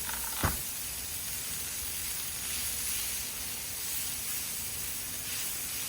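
Smash burger patties sear on a hot griddle, giving a steady, even broadband sizzle and hiss that holds throughout, with one brief sharp knock near the start.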